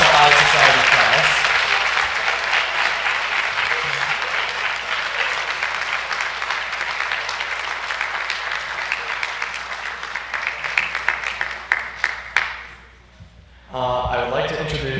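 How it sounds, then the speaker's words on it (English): An audience at a 2024 National Honor Society induction ceremony breaks into loud, dense applause that holds steady, thins into scattered claps, briefly drops out, then returns. "Can we get a round of applause for the 2024 National Honor Society class?"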